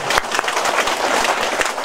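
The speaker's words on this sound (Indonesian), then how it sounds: "Mari kita tepuk tangan untuk mereka." Dense, loud applause from a community gathering's audience for the regent candidates, a continuous wash of many hands clapping close by.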